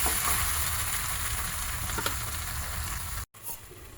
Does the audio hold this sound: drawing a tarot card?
no